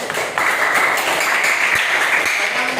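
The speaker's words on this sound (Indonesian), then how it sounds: "berikan tepuk tangan" Students clapping in a classroom after a presentation, a fairly loud, steady patter of hands with a faint hum underneath.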